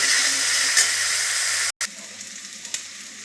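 Coconut milk poured into hot oil for a giant freshwater prawn curry erupts in a loud, bright sizzle, then after a brief cut settles into a quieter, softer hiss with occasional stirring clinks.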